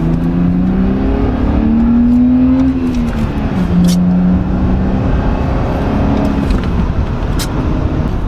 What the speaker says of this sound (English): As you can hear, the car has a deeper exhaust note even with the exhaust closed.